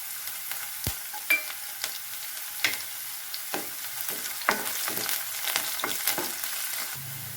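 Chopped garlic and onions fry in hot oil in a kadai, a steady sizzle punctuated by regular spoon scrapes and knocks as they are stirred, close up with no voices.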